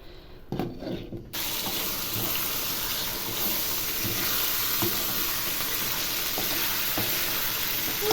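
Pork ribs stewing in a pot give a steady, close sizzle with faint watery bubbling that fills the whole stretch after a brief quieter start, broken by a few soft clinks and stirs.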